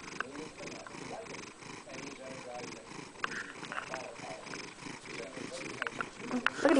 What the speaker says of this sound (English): Can you hear him purr?